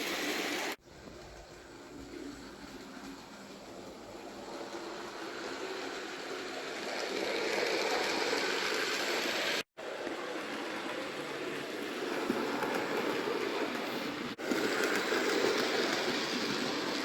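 3D printed Sam's Trains era 1 double coal model wagons rolling along a model railway track, a steady rumbling clatter with brief breaks, moderately loud and close, no talk.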